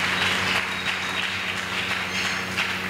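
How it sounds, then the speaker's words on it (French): A church congregation applauds loudly during a worship service, dense sustained clapping from many hands in a reverberant hall, steady throughout with no clear talk over it. "Nous acclamons très fort pour le roi."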